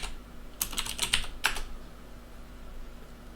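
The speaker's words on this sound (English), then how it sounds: "So here, we're going to simply type in get computer name" Computer keyboard typing a short command into IT operations software: a quick burst of about a dozen crisp, close keystrokes over one second, then quiet room tone.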